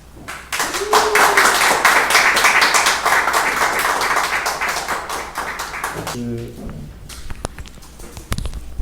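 A church seminar audience breaks into sustained, loud applause welcoming a visiting pastor, dense clapping that gradually thins out and ends with a few scattered claps and knocks.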